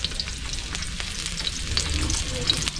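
Onion sautéing in hot cooking oil in a pan, a dense, loud, continuous sizzle and crackle close by, with faint stirring and no talk.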